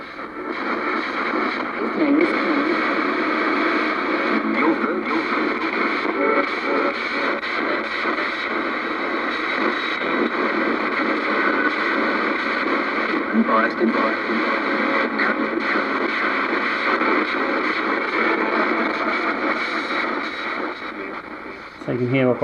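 Servo-driven ghost box radio sweeping its frequencies, a continuous stream of choppy static and broken radio fragments passed through echo effects, loud and unbroken for the whole stretch.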